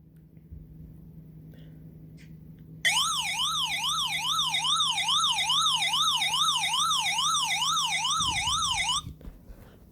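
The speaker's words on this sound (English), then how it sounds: "This is the siren on it." The siren alarm of an Emerson SmartSet WBS12 radio sounds after a quiet start: a loud electronic wail sweeping steadily up and down in a fast, even cycle for about six seconds, then cutting off abruptly.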